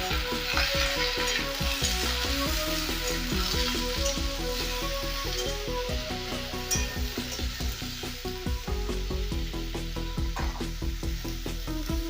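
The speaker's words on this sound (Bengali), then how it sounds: "আমি এবার এর মধ্যে এই ঝিঙে আর আলুটা দিয়ে খুব ভালোভাবে কষিয়ে নেব" Ridge gourd and potato are sautéed in a pan with lightly fried onion. A constant close sizzle runs beneath frequent, uneven scrapes and knocks of a spatula stirring the vegetables.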